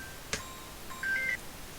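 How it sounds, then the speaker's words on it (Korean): An incoming phone call sounds as a few brief electronic ringtone tones, a quick chirp followed by a short sustained beeping note, fairly faint in a quiet room. "미안해요. 전화가 와서."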